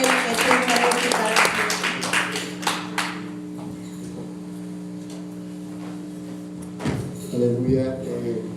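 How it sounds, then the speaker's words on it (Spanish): Church congregation applauding during a service, a broad burst of clapping for about three seconds that fades out, with sustained organ or keyboard tones underneath and a brief voice near the end. "Démosle un aplauso al Señor."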